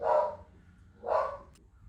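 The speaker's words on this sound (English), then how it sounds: "hopefully he's done barking." Two loud, close dog barks about a second apart, the second followed by a short higher yip, heard indoors with no talking.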